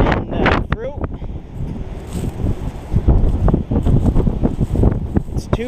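Strong wind gusts blow across an apple orchard, rushing loudly and buffeting the microphone in steady bursts, with a voice speaking briefly at the start.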